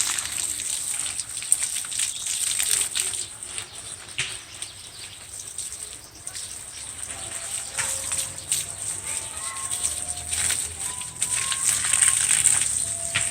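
Water splashing and trickling steadily, like a hose or can pouring onto plants, with faint birdsong and background sounds throughout.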